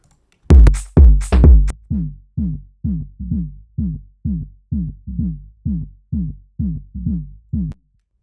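Deep, distorted bass pulses from the Noisebud Bear bass plugin's delta signal thumping in a steady rhythm, a few heavy hits followed by a long run of evenly spaced, growling low notes.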